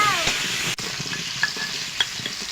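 Potatoes fry in oil in a wok, giving a close, steady sizzle broken by short scraping stir strokes.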